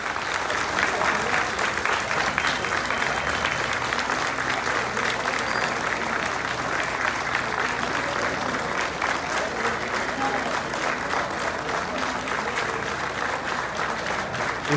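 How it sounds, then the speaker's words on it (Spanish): A large crowd gives a sustained, dense round of applause at a live banda music dance performance. The clapping stays loud and even for the whole stretch. "queremos un minuto de aplausos, si nos pueden brindar todos ustedes"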